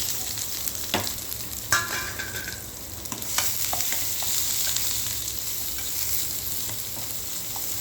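Onion stir-fried with urad dal in a pan gives a continuous close sizzle, broken by spatula scrapes and clacks against the pan at irregular intervals, with no speech.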